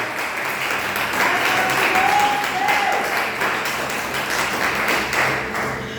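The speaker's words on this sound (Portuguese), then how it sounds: "Aplauda o Senhor Jesus, igreja." A crowd applauds steadily, a dense wash of clapping that holds for several seconds without talk.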